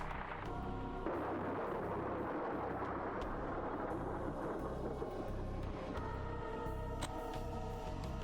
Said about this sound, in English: I heard another explosion and the video was cut off